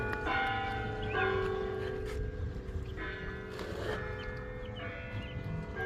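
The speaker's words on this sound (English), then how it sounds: "The bell tower." Bells in a church tower peal in repeated struck rounds, their long ringing tones layering over one another at steady intervals above low outdoor rumble, with some faint animal-like sounds in the mix.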